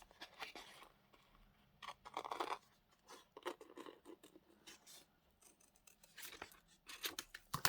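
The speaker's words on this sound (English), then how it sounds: "I quite like the fact that this has postal marks on it. So, cut this out" Scissors snip through paper stamped with postal marks, a run of close, crisp cutting bursts with brief pauses between, the sheet rustling softly as it is turned.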